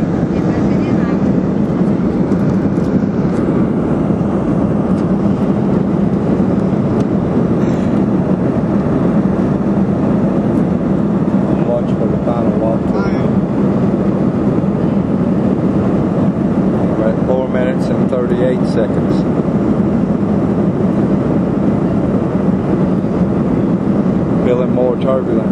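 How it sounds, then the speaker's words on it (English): Steady, loud airplane cabin roar in slight turbulence, a continuous broadband drone with faint rattles and shakes, with voices faintly present at times. "It's a little bit of turbulence. The plane shakes the lid a bit"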